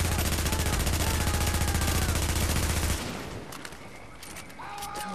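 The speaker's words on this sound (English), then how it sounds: "This shotgun is super weak." Weapon fire in The Division, a dense run of rapid loud shots for about three seconds, then stopping abruptly into quieter scattered game noise.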